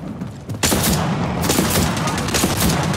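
Heavy automatic gunfire hits the player in Apex Legends, starting abruptly with loud dense bursts of shots that continue without a break, close and harsh.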